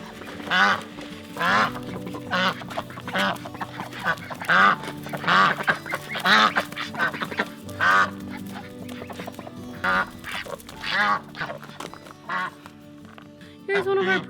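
Farm ducks quacking in loud, close, irregular bursts with honking calls, repeated over several seconds while a person talks intermittently in the background.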